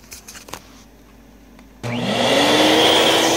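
An Electrolux vacuum cleaner with its head resting flat on the floor starts with a sudden loud roar after a few quiet clicks. Its motor whine then climbs steadily in pitch and holds, close and continuous.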